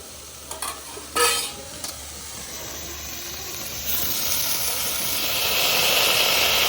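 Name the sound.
greens and their water added to sizzling Rajasthani laal maas mutton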